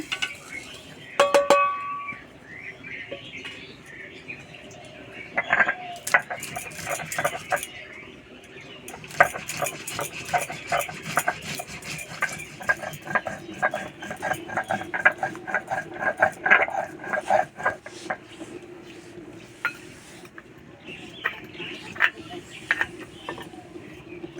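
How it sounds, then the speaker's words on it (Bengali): Coriander, cumin, cloves, black pepper and cinnamon are ground together into a paste. Repeated scraping and knocking strokes come in uneven bursts, with some background voices. "এখানে নিয়েছি ধনে জিরে দুটো লবঙ্গ গোলমরিচ আর দারচিনি সব একসঙ্গে বেটে নেব"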